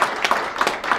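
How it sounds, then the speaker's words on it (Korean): Audience applause welcoming members from the Americas as they stand at a gathering of overseas Korean press, a brief burst of moderate clapping with a few louder peaks. "큰 박수로 환영해 주시기 바랍니다"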